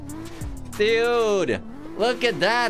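A car drifts in the Roblox video game, steered with a steering wheel. Its tires squeal and the engine whines in two loud, pitch-bending bursts while someone speaks excitedly over them.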